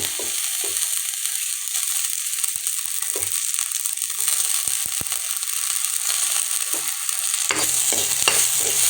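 Onion, ginger and green chilli fry in a pan with very little oil, a constant hiss carrying scraping strokes of a spatula stirring through the mix, up close and steady with no voices.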